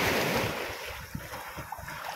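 Waves breaking at a murky sea shore after a night of heavy rain, a broad wash of surf under wind noise on the microphone, loud at first and easing into lower rolling swells with a few small splashes.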